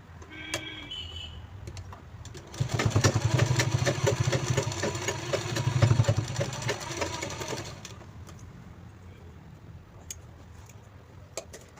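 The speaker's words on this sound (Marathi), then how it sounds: "तर आपण इथे पण दाब स्टिच देऊन घेऊया." Sewing machine stitching a sling bag, a steady rapid mechanical run of about five seconds with ticking needle strokes, then stopping, with a few faint clicks and handling noises around it.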